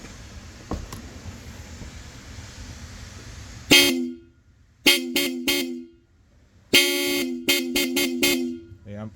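After a low background hum, a loud, piercing Blaupunkt Velocity motorcycle power horn blasts repeatedly: one long honk, three quick toots, then a longer blast followed by rapid staccato beeps.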